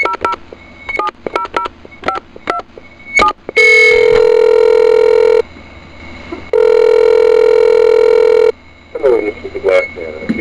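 A telephone keypad dials a call: a rapid run of distinct DTMF tone beeps, then two long, loud steady ringback or dial tones separated by a short gap, followed by a brief voice at the end.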